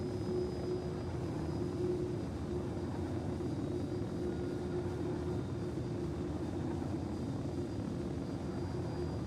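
A jet aircraft in a video game gives off a steady, droning engine roar with a constant tonal hum, unbroken and even in loudness, with no voices.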